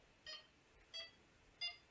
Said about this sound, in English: But out the box, beep speed is set to level 4.